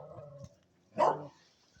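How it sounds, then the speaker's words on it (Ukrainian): A young dog barks in an outdoor pen, first a run of soft yips and whimpers, then one loud, close bark followed by a fading whine. "Ось молодь аж гавкає."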